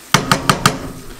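Four quick, evenly spaced metallic clinks close by as a lid is set onto a cooking pot, followed by a faint ringing tail.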